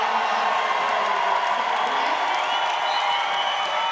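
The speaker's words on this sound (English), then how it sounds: "Everyone just started cheering and I couldn't see why." A large crowd at the Men's Roller Derby World Cup finals cheers loudly and continuously, with whoops and scattered clapping mixed into a dense roar of voices.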